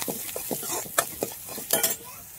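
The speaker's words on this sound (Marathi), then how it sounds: "थोडंसं मीठ टाकून घेऊ. परतून घेतो मस्त." Spices with salt and turmeric being sautéed in a pan on a wood-fired stove, brisk scraping strokes of a spatula over a soft sizzle, several quick bursts in a row.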